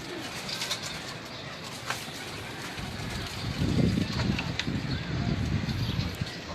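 Racing pigeons coo on a Lahore rooftop loft, a soft continuous murmur of low throaty coos that swells louder midway, with faint outdoor background hiss throughout.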